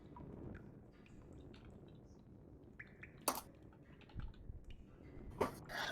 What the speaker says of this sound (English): I am a slow typer.